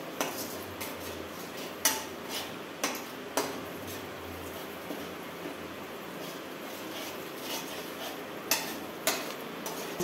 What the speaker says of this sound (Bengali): চলো মশলা কষিয়ে নিলাম।